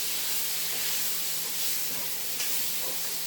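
Chicken pieces frying in a pan for chicken quesadillas, a steady close sizzle and hiss that holds evenly throughout with no talking over it.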